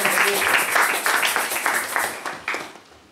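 A church congregation applauding during a French-language service, dense rhythmic clapping loud and close throughout, tapering off near the end.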